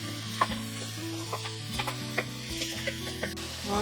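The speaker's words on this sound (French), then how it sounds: "Je vais rajouter le poivron. Je continue de sauter." Bell pepper sautéing in a pan, a soft steady sizzle with light scraping and clicking of a utensil stirring, fairly quiet and close with no talking.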